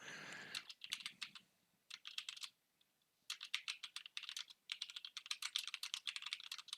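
Fingers type on a computer keyboard in quick, irregular bursts of close, crisp key clicks, with short pauses between runs and no talking.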